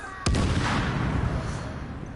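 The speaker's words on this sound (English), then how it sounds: "You can shoot these guys' tanks and they'll just blow up" A tank blows up after being shot in The Division, a single sharp, loud blast followed by a rumbling, decaying roar that fills the rest of the moment.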